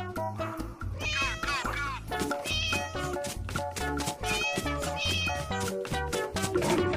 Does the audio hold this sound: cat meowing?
yes